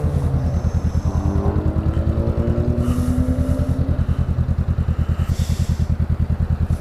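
A motorcycle idles steadily up close in cold, sub-freezing weather, its low, even thumping pulse continuing throughout with no talk over it.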